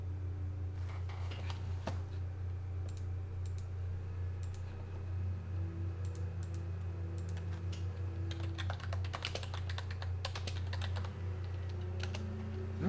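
Continuous computer keyboard typing, quick irregular key clicks with occasional louder taps and bursts, steady and close over a low constant hum of background equipment.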